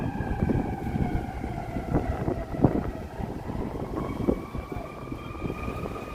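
A fire truck siren wails down a city street along Michigan Avenue in Chicago, its long rising and falling tones carrying over traffic and wind rumble, moderately distant and fairly faint.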